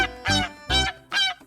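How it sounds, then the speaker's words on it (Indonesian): Three loud, separate honking calls from a swan, a large, long-necked bird, each about a quarter second long and spaced evenly. "Angsa bahasa Inggrisnya swan."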